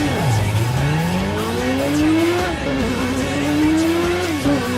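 A motorbike engine in the video game Burnout Paradise revs loud and close, its pitch sliding down, then climbing steadily as it accelerates and shifts.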